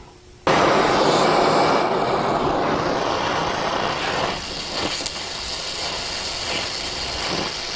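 A torch flame heats metal for brazing, igniting with a sudden loud roar that settles into a steady close rushing hiss, broken by a few faint clicks near the end.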